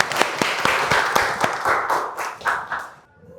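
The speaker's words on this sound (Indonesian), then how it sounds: "Tepuk tangan untuk Agni" Children in a classroom clap together in a quick, slightly uneven rhythm, close and lively, before the clapping stops abruptly near the end.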